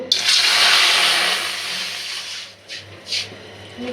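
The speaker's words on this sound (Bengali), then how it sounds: "এই যে কড়াই গরম হয়ে গেছে পানি দিয়ে দেবো" Water pours and hisses loudly into a hot kadai, a steady rushing sizzle that gradually fades, followed by a few soft clatters.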